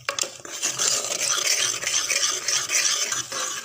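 Green peas masala being stirred in a pan after garam masala goes in. A spoon scrapes and clatters steadily over a soft sizzle, close up, with no talking.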